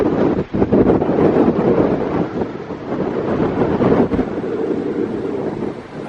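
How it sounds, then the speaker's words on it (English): Strong wind blows across Llyn Y Fan Fach lake in the Brecon Beacons, a loud, continuous roaring rumble with gusty buffeting against the microphone and a brief dip near the start. "It's a bit windy up here, surprise surprise. It's always windy when we go on our wild camp."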